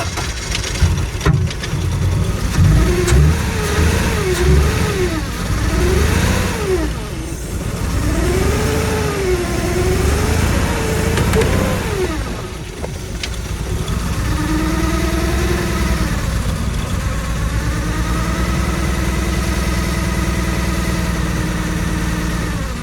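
An engine on a long-abandoned BMW E36 M3 revs up and down in repeated rising and falling swells, then settles into a rough, uneven idle, loud and close with no talk.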